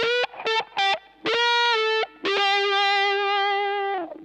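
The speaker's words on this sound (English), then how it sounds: "So I'm opening the wah up when I'm bending" An electric guitar through a wah pedal plays distorted, singing notes in a classic rock style, with short stabbed phrases giving way to a long bent note that sustains and sweeps as the wah opens, with no talking.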